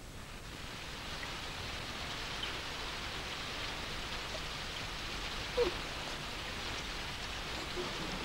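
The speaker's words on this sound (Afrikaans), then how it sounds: "Dit reën nou al vir 10 dae in die Moe-vallei, sonder ophou, dag en nag." Steady rain pours without pause in an Afrikaans-dubbed Moomin cartoon, a soft even hiss of falling water that holds constant throughout with no voices.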